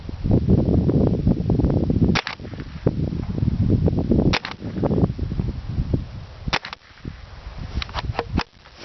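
A .22 survival pack gun fires several sharp, close shots, spaced unevenly over a low rumbling background, with a quick cluster of reports near the end.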